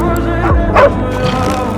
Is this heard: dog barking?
yes